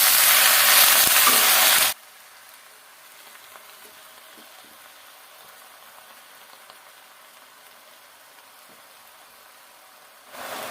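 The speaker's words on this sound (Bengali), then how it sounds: "পেঁয়াজ রসুন কাঁচামরিচ এগুলো ভাজা হয়ে গেছে এখন পালং শাক দিয়ে দেবে" Spinach frying in a pan with onion, garlic and green chilli gives a loud, dense sizzle for about two seconds, then near quiet with faint stirring, before the sizzle starts again at the very end.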